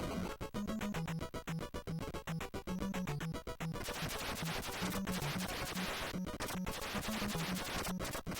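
Rapid electronic gunshots from the NES game Wurm pop in a dense repeating pattern over chiptune music, loud and continuous.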